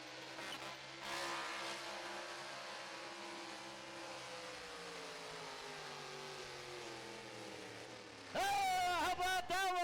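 The Mean Moline small block modified tractor pulls at an outdoor truck and tractor pulling event in Greeley, Colorado, its engine droning steadily at a distance under crowd noise, then bursting into loud, close revving near the end.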